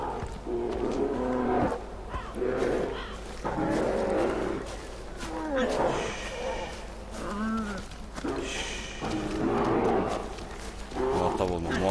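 A bear roars and growls repeatedly in the caveman-era video game Far Cry Primal, with loud bursts recurring over twelve seconds amid game sounds and someone talking.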